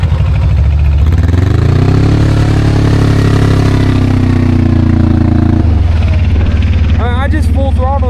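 Diesel ATV on drift tires held at full throttle in mud, a loud steady engine drone rising then holding high before dropping abruptly near the end, with wheel spin and a voice talking over it.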